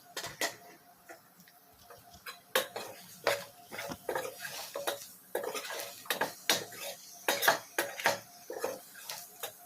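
A spoon scrapes and clinks against a pan as chilli powder and garam masala are stirred into chana masala, a steady run of sharp taps and scrapes close by with no talking.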